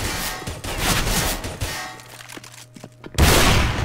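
Rapid gunfire in the video game CS:GO on the Train map, a burst of loud overlapping shots and crashes. It drops briefly to a quiet low hum, then a final loud blast cuts in.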